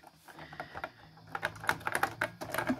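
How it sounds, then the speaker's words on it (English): Keys clack in quick, uneven bursts on a 1984 Galaksija computer keyboard, close and fairly quiet, with a faint electronic hum beneath. "the keyboard is responding."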